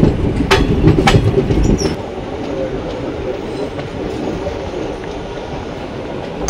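The Janmabhoomi Express rolls into Rajahmundry station with a loud, continuous rumble and wheel clatter, a few sharp clanks early on, then a steady heavy roll.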